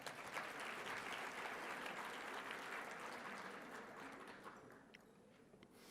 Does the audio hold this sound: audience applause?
yes